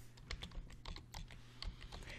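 Quick bursts of typing on a computer keyboard, a short run of soft, close key clicks entering a word at an irregular pace.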